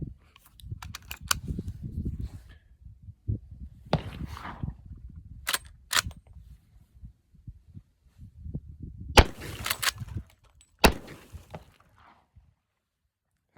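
A .357 Sig round fired from a Marlin 1894 lever-action rifle outdoors in Utah: several sharp, distinct cracks spaced across the clip, separated by quieter handling noise and faint rustling.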